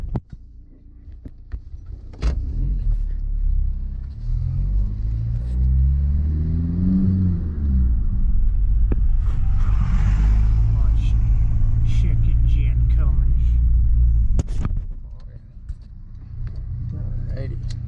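Straight-piped 2004 Volkswagen Jetta TDI diesel engine running close by, a steady loud low rumble that rises in a rev around the middle and then settles back to a deep idle.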